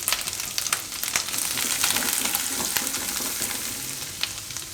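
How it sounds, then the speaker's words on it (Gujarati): Freshly ground spice masala hits hot oil with the gas turned off, a dense, steady sizzle and fry crackle close by, with light stirring. It is for panipuri-flavoured puffed rice. "આ તેલમાં આપણે આ જે પીસો મસાલો એ બધું નાખી દેવું."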